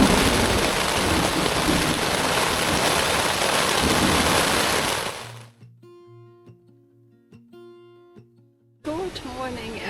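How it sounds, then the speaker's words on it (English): Heavy rain pelts a tent at night during a storm on the Pembrokeshire coast, a dense, loud hiss for about five seconds before cutting away to a quiet tonal passage and then a voice speaking. "It rained so heavily."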